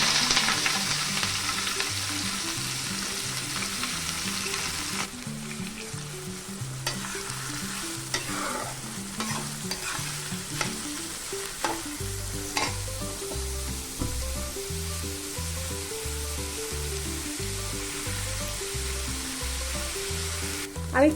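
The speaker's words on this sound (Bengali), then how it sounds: "আমি পেঁয়াজটা খুব ভালোভাবে ভেজে নিয়েছি।" Chopped onions fry in a pan with whole spices, dried chillies and bay leaf, a continuous close sizzle broken by scraping stirs and clinks of the spatula throughout.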